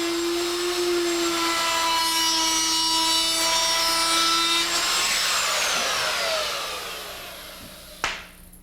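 A router with a pilot bit cuts drywall around an electrical box on a ceiling, running as a loud, steady high whine that winds down toward the end, followed by a single sharp knock.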